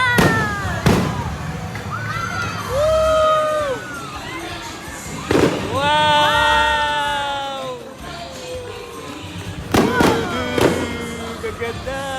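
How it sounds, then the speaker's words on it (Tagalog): Sharp fireworks bursts crack and boom at intervals at the Enchanted Kingdom theme park, followed by whistling and crackling, while a crowd shouts and cheers around them. "After nitong fire dance, manonood na rin kami ng fireworks."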